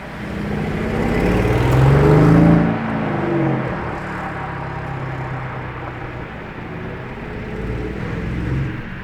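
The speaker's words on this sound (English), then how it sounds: "nice downshift on the Urus SE" A Lamborghini Urus SE roars past with a loud engine swell that peaks and drops as it downshifts, then fades into steady traffic and road noise.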